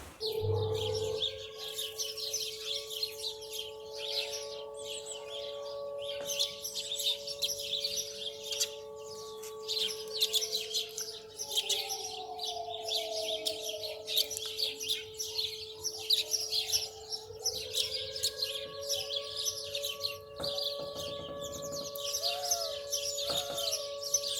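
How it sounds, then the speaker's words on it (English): Birds chirp and sing continuously in the morning while a steady air-raid siren tone holds underneath, rising and falling in pitch a couple of times, in wartime Ukraine. "this is our morning concert. It's like birds and sirens"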